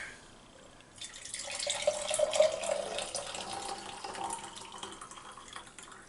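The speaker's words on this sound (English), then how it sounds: "So I'm going to pour my liquid right on into there." Liquid stock is poured into a two-cup glass measuring cup, a soft splashing stream that starts after a quiet moment and keeps running steadily before tapering off.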